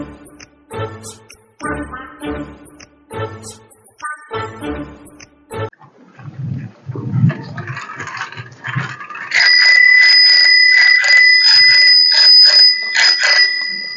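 A bell rings in rapid, sustained bursts at close range, bright and piercing, after a stretch of people talking and clattering nearby.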